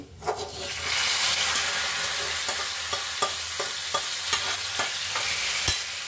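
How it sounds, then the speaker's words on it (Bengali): Leafy greens sizzle as they fry in a hot wok, a steady bright hiss broken by repeated scraping clacks of stirring at an uneven rhythm, close and fairly loud with no talk. "শাক বাগারটা হয়ে গেছে, এখন আমি শাকটা ঢেলে দিব কড়াইতে"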